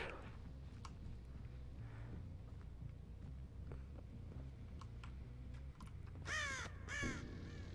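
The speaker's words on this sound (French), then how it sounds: "Les petits corbeaux me parlent." Crows cawing in the horror video game Dead by Daylight, a short burst of several harsh caws near the end over a low rumbling game ambience.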